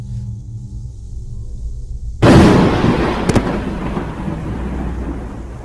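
A sudden loud thunderclap in the horror video game Mortal Decay breaks a quiet low hum, with a sharp crack followed by a long rumbling roll that slowly settles.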